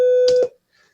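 A pure sine wave test tone generated in the free audio program Audacity plays as a steady loud single pitch, then cuts off abruptly with a brief click, leaving near silence.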